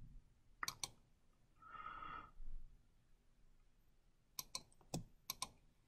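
Computer mouse clicks, sharp and close, a pair early on and a cluster of several near the end, separated by quiet gaps and a soft midrange hum.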